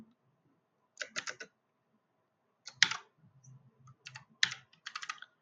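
Bursts of computer keyboard typing while code is entered, quick clattering runs of key clicks in three or four clusters separated by pauses, close and fairly quiet with a low murmur between.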